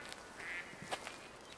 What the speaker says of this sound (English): There's ducks. Geese all over the place.